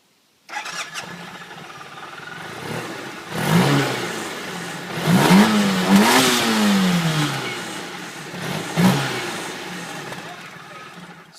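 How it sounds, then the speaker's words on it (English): A 2013 Suzuki Burgman 650 scooter starts and revs several times in bursts, a throaty motorcycle-like exhaust roar rising and falling, with brief pauses between throttle blips. "the exhaust sound that sounds a little bit more like a motorcycle versus a car"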